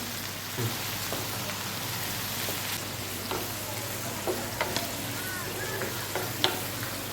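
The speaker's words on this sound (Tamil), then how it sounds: "தக்காளி நல்லா வதங்கட்டும்" Tomatoes sauté in a pan for a spicy chutney, a steady close sizzle with occasional stirring scrapes and pops throughout.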